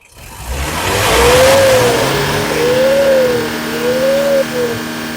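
A car engine revs hard in about three rising-and-falling swells over a steady low idle rumble. It is loud and close, with no talking.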